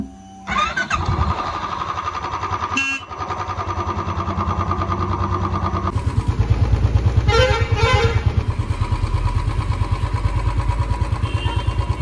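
A motorcycle engine starts up with a catch and sputter, then settles into a loud, close, steady throbbing idle that revs slightly.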